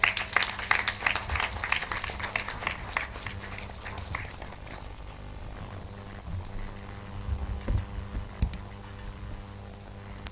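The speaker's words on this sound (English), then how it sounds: "let's give a big hand of applause" Guests at a Telone graduation ceremony give a round of applause. The crowded clapping is loudest at the start and fades after about five seconds into a low hum with scattered footsteps and thumps.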